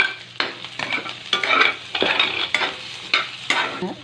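Onion and garlic frying in a pan for ginataang gabi, a close sizzle broken by repeated scraping stirs at a steady, uneven rhythm, with no talking.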